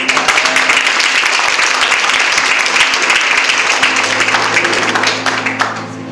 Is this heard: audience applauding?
yes